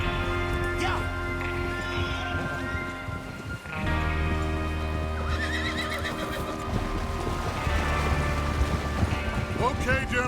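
Horses whinny and snort with hooves clopping in Red Dead Redemption 2, several animals close by as riders prepare for a train robbery, with rain-like patter and game voices talking over the tonal neighs.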